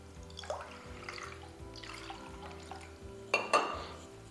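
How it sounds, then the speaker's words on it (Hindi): Water is poured into a yogurt bowl while cooking mutton korma, soft liquid splashing and trickling with a couple of louder clinking pours near the end, all fairly quiet. "दही के ही प्याले में हम पानी डाल के"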